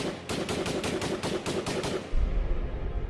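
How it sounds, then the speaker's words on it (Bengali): Rapid gunfire rings out from outside a window, about nine evenly spaced sharp shots in a steady burst, then a low rumbling tail with no further shots. "ঘরের জানলার বাইরে এমন সময় গুলির আওয়াজ শোনা গেল।"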